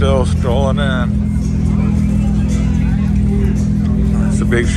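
Classic cars roll into the Pomona Swap Meet & Classic Car Show, a steady, close engine rumble running throughout beneath people talking.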